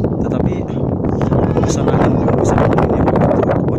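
Strong wind gusts buffet the microphone on a Korean mountain peak, a loud continuous roar and rumble that stays steady throughout, with a voice talking over it.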